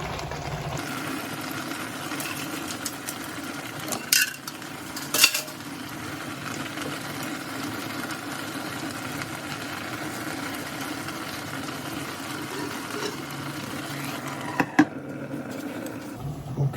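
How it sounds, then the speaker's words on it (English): A steady bubbling rumble of water boiling in a pot, continuous throughout, with a couple of brief clinks of metal. "this is boiling nicely."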